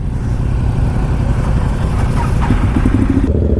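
A group of motorcycles idles and rumbles together before a ride, a loud, close, continuous engine roar with no speech over it.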